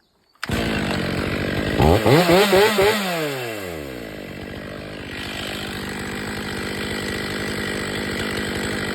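Chainsaw after a tree felling revs in two quick trigger blips, loud and close, with the engine pitch sweeping up and down, then settles into a steady idle chatter that runs on alone.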